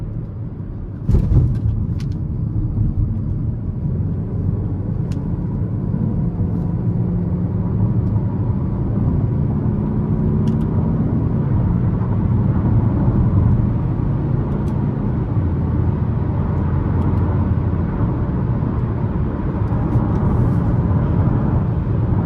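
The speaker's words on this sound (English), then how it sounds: "we're gonna give it throttle again here" A 2015 Chevy Malibu LT on the road under throttle in manual mode, its engine droning steadily and rising in pitch through the gears, with constant road and cabin rumble, loud and continuous inside the car with no talk.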